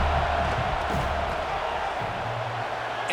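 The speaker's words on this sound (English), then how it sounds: "This crowd trying to do its part to get inside the kicker's head." Stadium crowd roar from EA College Football, Wake Forest at Florida State, during a field goal attempt: a dense, steady wash of cheering and shouting that stays loud and continuous throughout, with no distinct voices standing out.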